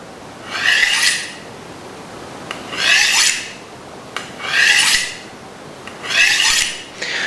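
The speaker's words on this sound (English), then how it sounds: "that lovely swishing sound" A knife is drawn along a butcher's steel in four slow, even swishing strokes about two seconds apart, each a close, airy metallic rasp that rises and fades, with no talking.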